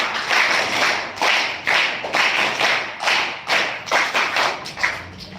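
A group of schoolchildren claps together in a steady burst of sharp, close hand claps lasting several seconds, with no talking over it.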